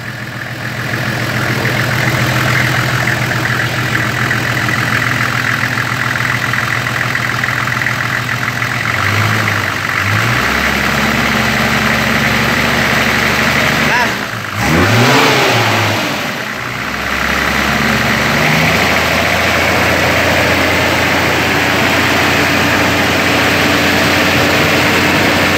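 A 2004 Toyota pickup engine running steadily at idle, loud and close, with a couple of revs rising and falling in the middle before settling back to a constant idle drone.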